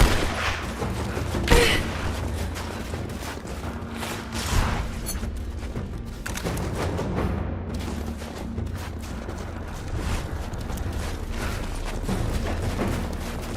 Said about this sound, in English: Laying down cover fire.